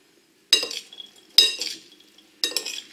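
Spaghetti in gorgonzola sauce with walnuts is tossed with a metal utensil in a pan, giving three separate bursts of clinking and scraping with quiet gaps between them.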